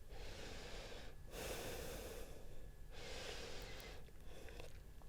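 Slow, soft yoga breathing in through the nose and out again, heard as two long, faint airy breaths separated by brief pauses, with no talking.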